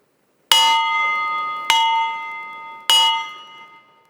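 A gong at a Fraternal Order of Eagles induction ceremony is struck three times at even intervals, each loud metallic hit ringing on with a sustained shimmering tone that decays between strikes.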